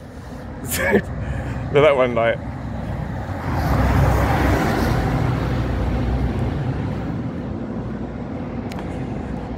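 A bus passes on a steep descending street in Dubrovnik's old-town approach, a broad engine rumble swelling in the middle and trailing off slowly, with a person talking briefly near the start.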